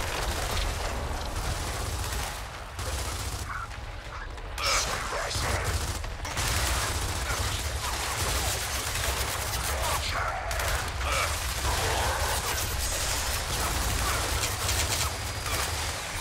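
Gunfire in the video game Gears of War 4, dense, loud, continuous bursts of shots and explosions filling the whole stretch with little pause.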